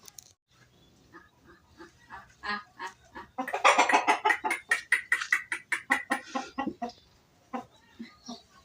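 Hens bought as a hobby cluck and squawk in a rapid rising series, loud and close, building to a dense burst of calls before fading to scattered clucks.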